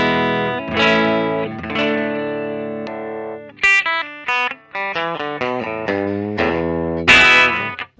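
A 2020 Epiphone Joe Bonamassa Les Paul electric guitar played through amps and distortion pedals, loud sustained chords followed by choppier picked notes and a final ringing strum, with chorus-like shimmer and no talking.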